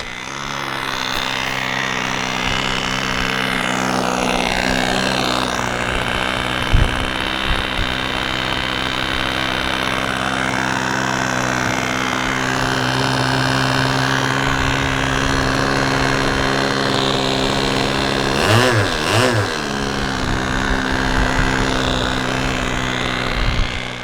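An SH46 glow engine on a Sonic Hi Wing model airplane runs during a taxi test, a loud, steady high-pitched buzz holding constant for the whole stretch, with a brief rise in pitch near the end.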